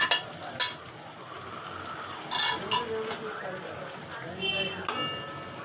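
Shrimp going into a hot cooking pan and being stirred, with scattered metallic clinks and scrapes of a utensil against the pan over a low, steady sizzle.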